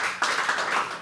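An open-mic poetry audience claps to welcome the next poet: a dense, steady wash of many hands clapping together, close and fairly loud, briefly dipping before swelling again.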